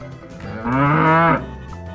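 A single loud, drawn-out cow moo rising and holding for about a second, over quiet outdoor background.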